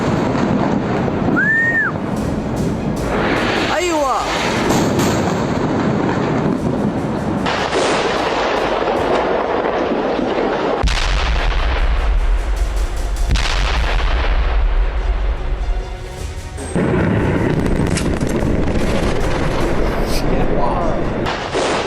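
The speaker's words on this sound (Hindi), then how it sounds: "इजराइल और हिजबुल्लाह के बीच चल रही जंग में इजरायली सेना की तरफ से लेबनान में बीते 50 दिनों से दिन रात बम बरसाए जा रहे हैं।" Artillery fire and bombing in war footage from Lebanon during the Israel–Hezbollah conflict, with repeated heavy booms and blasts over a continuous rumbling battlefield din, some near and loud, others distant.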